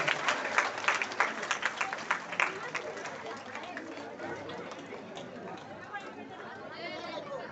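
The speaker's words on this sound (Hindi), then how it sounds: "साथ में तालियों की गड़गड़ाहट आप करते रहिए।" An audience at a satsang claps in a lively, rhythmic burst, then the applause thins into a murmur of crowd chatter and voices.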